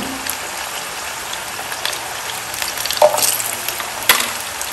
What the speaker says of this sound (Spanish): lo vamos a freír un poquito para que le dé también este gustito a lo que es el aceite